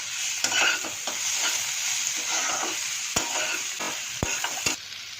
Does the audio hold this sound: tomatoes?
yes